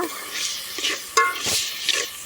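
Steady sizzling hiss of tempering spices in oil for Maggi noodles, with intermittent scraping clatters of a utensil stirring in a pan, close and moderately loud, no talking.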